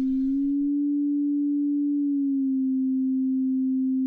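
A Bitwig synthesizer tone detuned by Phase-4 frequency modulation, a steady pure hum that wavers slightly in pitch, alone and fairly quiet.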